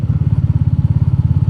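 Royal Enfield Meteor 350 motorcycle fitted with a FuelX Pro module, its single-cylinder engine running at a steady idle: a loud, close, even thumping pulse with no talk.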